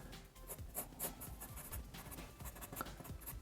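Pencil drawing lines on paper: a steady run of soft, scratchy strokes repeating in quick rhythm, close and quiet, with no voices.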